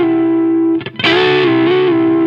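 Sustained notes of a blues rock solo on a heavily distorted electric guitar, a brief choppy change in the middle, then a long ringing tone that holds evenly.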